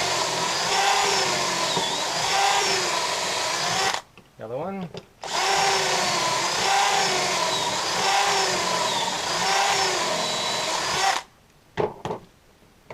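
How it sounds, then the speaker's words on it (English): A power drill whines steadily at close range drilling pocket screw holes in wood, stops briefly while someone speaks, then runs again before cutting off. "You basically just take it and drill into the hole."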